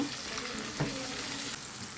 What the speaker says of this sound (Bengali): ভালো করে আমি মশলাটা কষাই নেব